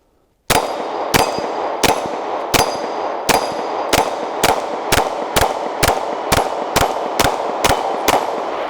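A Glock 23 pistol fires about fourteen evenly spaced shots, loud and close, and each sharp crack rings off a steel popper target, leaving a short metallic clang after every shot.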